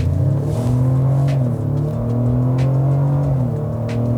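A 2025 Ford Explorer ST-Line with its 2.3-liter four-cylinder engine accelerates hard, a loud steady engine drone rising in pitch through the gears, heard from inside the vehicle with no talk.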